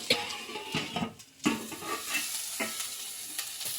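Peas frying with green chilli, ginger, garlic and turmeric in a pan, a steady close sizzle broken by several brief stirring scrapes and clatters.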